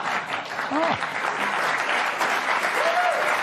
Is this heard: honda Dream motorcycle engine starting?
no